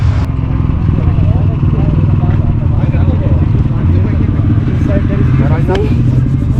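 A motorcycle engine idles and rumbles steadily close by in Gulmarg, Kashmir during heavy snowfall, a continuous low mechanical drone with some clatter and voices faintly mixed in.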